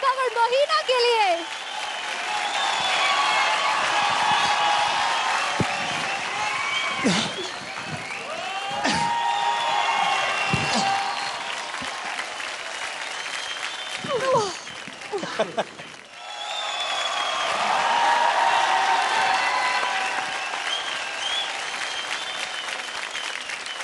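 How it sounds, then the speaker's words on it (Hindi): Loud sustained audience applause for dancers Vaibhav and Mohina on a televised dance competition stage, swelling at the start, easing midway, then returning strongly with scattered cheers and a voice over it. "जोरदार तालियां वैभव और मोहिना के लिए"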